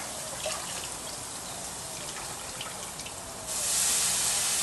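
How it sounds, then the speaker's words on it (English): Soaking water being drained off corn on the cob in a backyard before grilling: a continuous trickle and splash of running water that swells louder near the end. "So I'm just going to drain some of the water off and stick it right on there."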